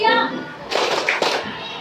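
Children clap their hands together in a classroom clapping game, giving two short bursts of group claps, with a teacher's voice speaking before them.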